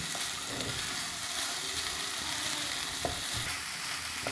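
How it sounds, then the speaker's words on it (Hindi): Chopped cabbage filling is stirred in a hot pan, with a steady sizzle and soft spoon scrapes and occasional light knocks, no talking. "इसको मैं इस तरह से बस मिक्स करूँगी और फ्लेम को बंद कर दूँगी"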